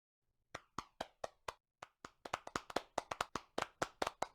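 A virtual convention app plays a clapping sound effect: sharp single claps, sparse at first and then quicker, overlapping claps, close and clean against silence.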